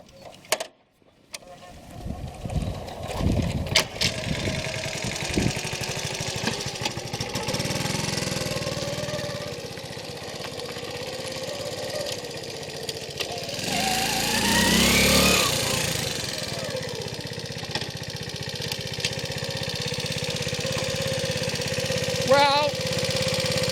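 A Honda C90 motorcycle with a slipping clutch runs nearby, its small engine idling and then revving up, with a surging, drawn-out rise in the middle and the revs dropping back afterward.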